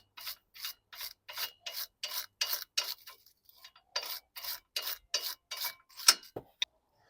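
Brisk, regular rasping strokes as Vauxhall Vivaro front brake caliper parts are rubbed clean, about a dozen close, evenly spaced scrubs with a short pause midway.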